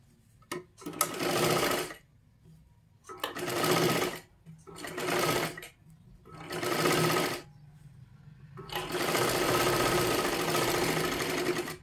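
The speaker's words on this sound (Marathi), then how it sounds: "ह्याच्यावरती पण अजून एक आपल्याला डबल शिलाई मारून घ्यायची आहे" A sewing machine runs double stitching along a katori blouse seam in five loud, close bursts of rapid whirring, the last the longest, separated by short gaps with faint handling sounds.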